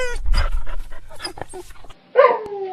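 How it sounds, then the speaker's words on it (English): A dog, chained up in a stage performance of Peter Pan, whimpers and gives short, close yelps and barks, then a longer whining cry. "That is not Nana's unhappy bark."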